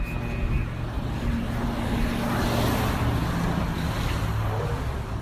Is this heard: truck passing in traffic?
yes